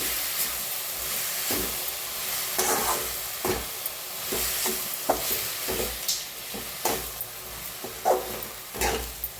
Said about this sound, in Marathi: छान अशी मिक्स करून घ्यायची आंबाडीचा कलर चेंजेस होत असते